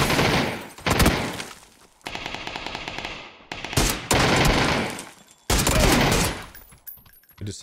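Loud bursts of automatic gunfire in the PUBG battle royale video game, several sharp volleys separated by brief pauses, with a faint voice briefly underneath.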